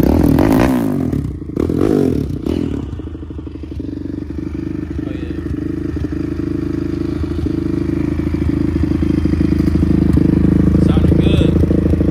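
A modified ATV with an aftermarket race hood idles loudly and close after some clattering, holding a steady throaty drone that swells slightly toward the end, while people talk over it.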